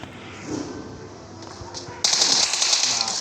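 A heavy gun fires in PUBG Mobile. After a stretch of muffled game noise, a loud, dense burst of rapid gunfire breaks out and keeps going to the end.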